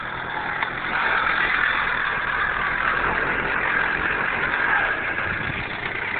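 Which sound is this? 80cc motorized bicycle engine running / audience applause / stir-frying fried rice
80cc motorized bicycle engine running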